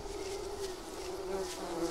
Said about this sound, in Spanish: Ya tenemos aquí algunas abejas.